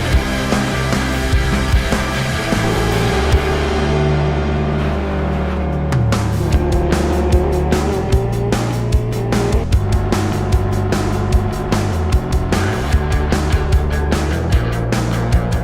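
GT2 race cars racing wheel to wheel in the Live for Speed sim, engines droning loud and steady with rising and falling revs, a dense pack of overlapping motors and sharp gear-shift blips throughout.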